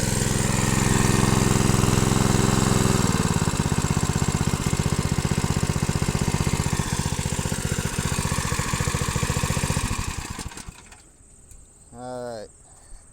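A small dredge motor powering a 2-inch PVC dredge nozzle runs at about half throttle, a loud, steady mid-pitched drone that holds for about ten seconds, then cuts off abruptly, followed by quiet with a brief voice.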